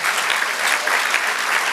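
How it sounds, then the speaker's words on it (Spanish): Church congregation giving a short, dense round of applause, steady and fairly loud throughout with no voices over it. "Dale aplauso al Señor."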